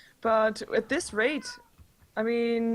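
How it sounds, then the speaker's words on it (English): A house cat meows loudly and close by in a couple of drawn-out, tonal calls, one at the start and another near the end, while someone talks over the gap between them. "Sorry for the cat sounds, by the way."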